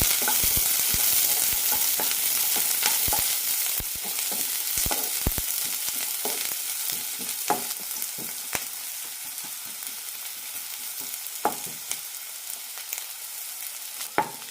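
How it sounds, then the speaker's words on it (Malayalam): Chopped shallots and garlic fry in a teaspoon of coconut oil, crackling and popping densely at first, then settling into a softer steady sizzle with scattered spatula scrapes and ticks. "ഒരു ടീസ്പൂൺ വെളിച്ചെണ്ണയാണ് ഒഴിച്ചിരിക്കുന്നത് ഇതിലേക്ക് ചെറിയ ഉള്ളി അരിഞ്ഞതിടാം കൂടെ തന്നെ വെളുത്തുള്ളിയും"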